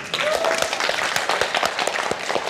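Audience applause at a Korean political rally, a dense, steady patter of many hands clapping loudly with a few sharper claps standing out.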